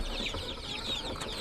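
Small flock of KUB chickens clucking softly and continuously in a coop during cold rainy-season weather, a low steady chatter of hens and chicks with no single bird standing out.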